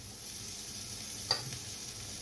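Sauce poured into a hot pan for a halloumi burger with eggplant slices, giving a steady close sizzle with one brief sharp spatter in the middle.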